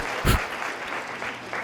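Audience clapping, a brief patter of applause with one louder burst near the start, heard at moderate distance and fading quickly.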